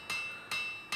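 Hammer blows strike a steel axe head held upright on an anvil face while a Sutton Hoo axe-hammer is forged: three sharp ringing metallic hits at an even rhythm, close and loud, each leaving a bright ring.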